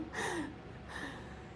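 A son snoring nearby indoors: two soft, drawn-out snore breaths, each with a raspy tonal edge, separated by a brief quiet pause, faint and heard alone.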